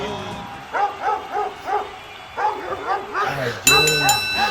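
Two dogs barking in a wrestling ring, a run of short, high, yapping barks in quick bursts, fairly close, followed by a brighter ringing tone near the end.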